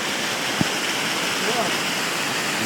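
Gürgüre waterfall, the highest waterfall above Yukarı Civanlı village in Turkey, gives a steady, loud, unbroken roar of falling water. A single brief knock sounds near the start.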